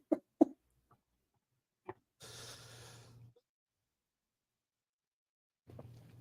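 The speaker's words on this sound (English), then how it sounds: "I just had to cough." Two sharp coughs up close from someone who had been inhaling smoke while laughing, followed by a faint breath and brief rustling, with no speech.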